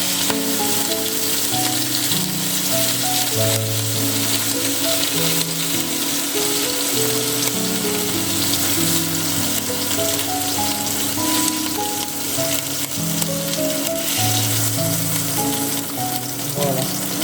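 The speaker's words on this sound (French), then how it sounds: "vous mettez vos morceaux de bœuf dans votre marmite, juste à côté" Beef pieces sear in a pot for homemade pot-au-feu, producing a continuous loud sizzle throughout, with tonal background music playing underneath.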